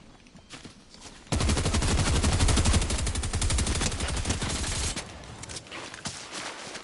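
Rapid, loud bursts of automatic gunfire in Fortnite rattle continuously for several seconds, followed by a few scattered shots.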